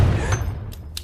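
A gunshot in a film scene cracks out loud and close, followed by a couple of sharp, short bangs or impacts in quick succession.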